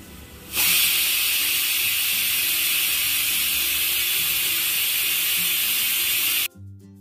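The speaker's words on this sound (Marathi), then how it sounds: "कुकरची एक शिट्टी झाली" A kitchen pressure cooker gives a single whistle, a loud, steady, close hiss of venting steam that starts abruptly and holds for about six seconds before cutting off.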